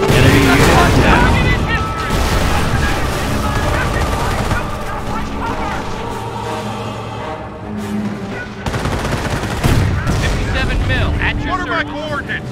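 Rapid bursts of machine-gun and rifle fire with booming explosions from a World War II battle in the strategy video game Company of Heroes, loud and dense throughout, under radio-style unit chatter.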